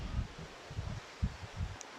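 Wind buffets the microphone outdoors in low, uneven gusts and rumbling bursts, steady throughout with no talking.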